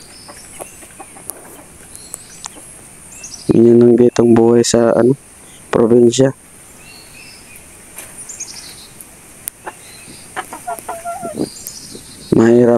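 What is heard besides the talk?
chicken clucking on a farm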